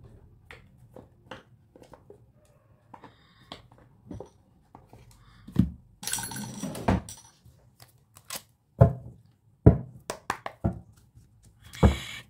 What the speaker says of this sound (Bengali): কার্ড সাফল করাটা মনে রাখবেন